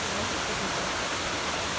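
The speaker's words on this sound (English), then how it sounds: "Look at this beautiful waterfall." A waterfall heard from the bottom of a canyon roars as a dense, steady hiss of falling water that stays constant throughout.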